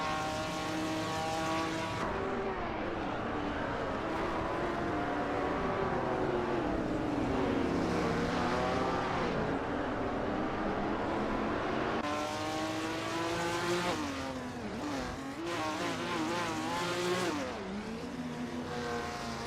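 Race cars in a racing video game drone and rev steadily, layered engine tones rising and falling as they drive the circuit, with a sharper burst of passing engines late on; no voices.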